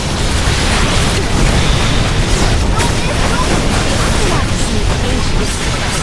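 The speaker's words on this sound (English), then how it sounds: "Cannon still fires." Cannon fire in the Visions of Mana video game: loud, dense booming blasts roll continuously over a thick wash of battle noise and music, with no clear gaps between them.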